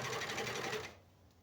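A Janome 104D sewing machine stitches a fabric nursing pad in a quick, rapid burst of mechanical chatter that stops abruptly after about a second.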